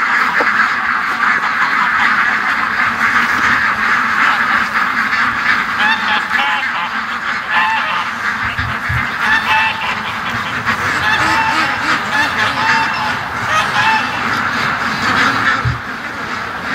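Dense, continuous quacking from a large flock of ducks being rounded up toward a lake, loud and close, with a few low thumps near the end.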